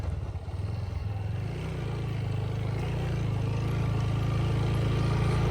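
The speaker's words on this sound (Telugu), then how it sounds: "బండి స్టార్ట్ చేసి ఫస్ట్ గేర్ అయితే వేసాను చూడండి వావర్ ఆర్పిఎం అయిపోతుంది కానీ బండి పరిగెట్టట్లేదు" A motorcycle with burnt clutch plates revs high in first gear without moving off, producing a steady, loud, droning engine note that climbs slightly and holds close to the microphone, with no talking.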